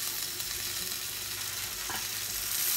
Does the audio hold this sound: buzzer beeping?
no